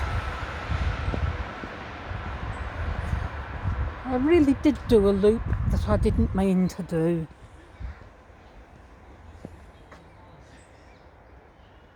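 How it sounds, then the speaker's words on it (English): A low rumble of a passing train fills the first seconds, then fades while a person speaks over it in a windy outdoor setting on a woodland walk in Elmstead Wood. "That's a train."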